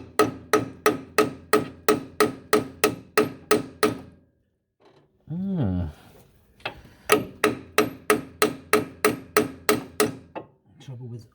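A 9mm socket is hammered onto a 10mm bolt head during brake work on an older Ford Transit: a quick, even run of loud metallic blows, a short pause with a scraping, ringing shuffle, then another steady burst of strikes.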